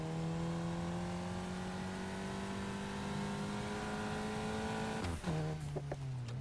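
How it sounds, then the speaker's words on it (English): A stock car engine in the racing game NFS Heat revs steadily higher, then shifts up with a sharp DSG-style crackle and blow-off burst and drops to a lower pitch. "Oh, that's a really realistic like shift type, like DSG fart type sound."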